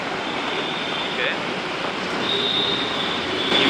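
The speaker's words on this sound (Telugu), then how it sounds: "మాదాపూర్ మెట్రో స్టేషన్కి వచ్చాం" A metro train at Madapur metro station in Hyderabad rumbles steadily and loudly up close, with a thin high squeal rising toward the end and voices talking faintly underneath.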